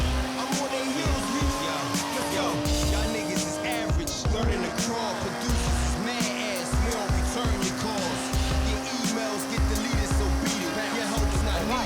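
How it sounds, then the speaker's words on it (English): A car fitted with a sport exhaust in the racing game Forza Horizon drones loudly and continuously, with the engine pitch shifting through gear changes and a brief tire squeal, while a voice talks over it. "you hear how that sport exhaust made a difference in the way it sounds"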